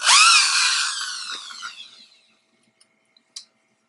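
A power drill's loud whine winds down steadily and fades to silence, followed by a few small, sharp clicks.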